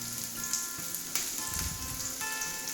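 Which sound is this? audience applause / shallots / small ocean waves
shallots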